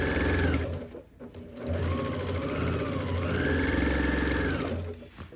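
A sewing machine runs in steady bursts while stitching fabric for a rolling TV cart cover, pausing briefly near the start and running continuously for a few seconds after, close and loud.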